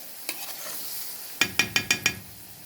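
Spoon stirring onions frying in a pan for a home-style lentil and vermicelli dish, a steady soft sizzle with five sharp scrapes in a quick row near the end.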